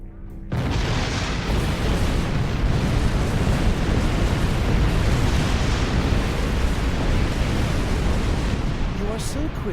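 Detonated charges exploding in Star Trek Online, a sudden boom that swells into a sustained, dense roar of blast rumble lasting several seconds, loud and enveloping.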